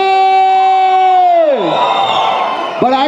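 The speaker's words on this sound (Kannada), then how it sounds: "ಚಪ್ಪಾಳೆ." An audience at a film trailer launch event for Kaalapathar erupts in loud cheering and whooping after a long held tonal cry, the crowd noise swelling close and dense.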